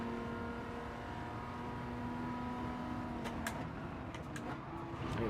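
A Maserati Merak SS from 1980 in Gran Turismo 7 has a steady engine drone that rises toward the end, with short sharp bursts near the close and no talking.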